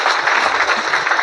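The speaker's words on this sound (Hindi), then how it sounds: "चलिए आप लोग अपने लिए ताली बजा सकते हैं।" An audience claps together at an indoor company gathering, a dense, steady patter of many hands filling the whole moment at close range with no talk over it.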